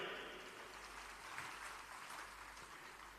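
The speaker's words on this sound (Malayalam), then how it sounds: "അതിൽ അഭിമാനിക്കാൻ ആഗ്രഹമുള്ളവരൊന്ന് കൈയടിക്കാൻ ഞാൻ പറയാം." An audience at a Pala diocese missionary church gathering gives a faint, distant round of applause, a soft, even wash of clapping that lasts throughout.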